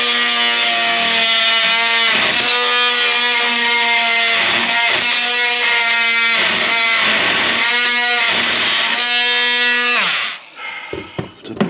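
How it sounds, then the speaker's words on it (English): An oscillating multi-tool cuts into a plastic toilet part with a loud, buzzing vibration whose pitch wavers as the blade bites and eases. It runs almost continuously for about ten seconds before stopping, followed by a few faint knocks. "get the multi-tool and see if we can cut the top of that off."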